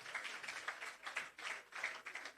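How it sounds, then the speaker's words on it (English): Audience applause at a shelter recovery programme handing-over ceremony: steady, dense clapping that swells and dips in several waves over a couple of seconds, heard alone without talk. "Give her a round of applause as well."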